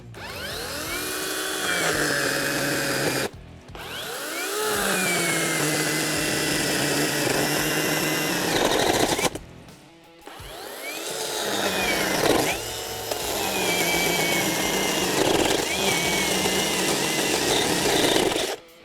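A Pro-Craft 20V brushless cordless chainsaw whines under load as it cuts through wood in long steady passes, briefly dropping off twice between cuts, loud and close.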